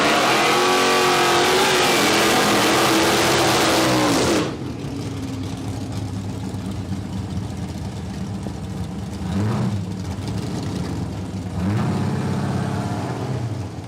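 At a dragway, a big Holden Statesman and a Mitsubishi Lancer race, engines screaming loudly through rising revs for about four seconds, then cutting to a lower distant rumble with a couple of brief rev blips.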